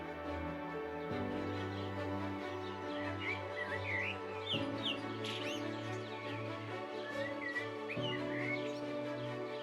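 Birds chirp and tweet in the Blue Mountains of Australia, with a scatter of short, mid-distance calls over a steady, sustained tonal backdrop.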